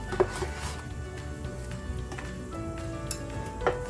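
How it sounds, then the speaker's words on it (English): Stirring fried chicken meatballs into multi-grain spaghetti in a pan with the heat off, a soft sizzle underneath scattered scraping and light clinks from utensil against pan. "Adding the meatballs in. Stirring it."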